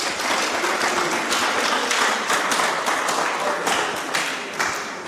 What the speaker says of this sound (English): We can clap for him as he comes.